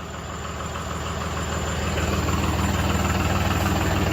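A Swaraj tractor's diesel engine runs at a steady idle after starting, a loud, continuous low rumble with a pulsing vibration that grows slightly stronger.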